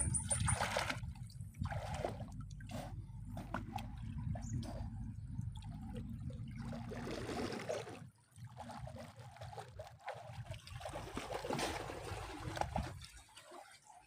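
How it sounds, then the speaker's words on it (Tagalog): Water gushing and trickling over rocks in clear sea water, a continuous splashing wash with bursts and brief dips, close by. "bubulusok ang tubig"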